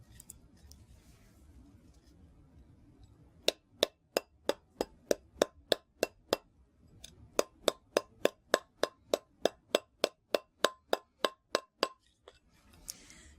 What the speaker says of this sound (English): get your mallet and, okay, we're going to beat on the side wraps as well as on our rosettes